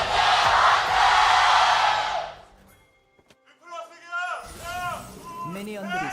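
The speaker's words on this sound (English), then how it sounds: "it's a cheer battle in here" A large esports arena crowd cheers in a loud, sustained roar for about two seconds during an LCK League of Legends match, then fades as a commentator begins speaking.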